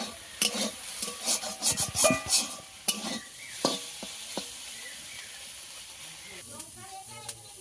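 Prawns frying in hot oil in a pan while being stirred: scraping and rasping strokes cluster early, then a steady sizzle runs underneath, with a few sharper clinks later and some background voice.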